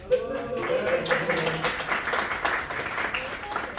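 After a card trick, an audience gives a short, modest round of clapping, fairly light and scattered, while a voice speaks over the first part.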